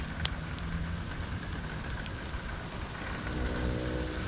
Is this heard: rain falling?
yes